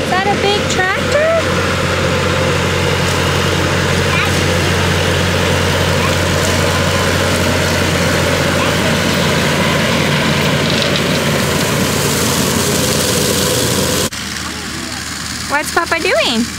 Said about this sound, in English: Is that a big tractor?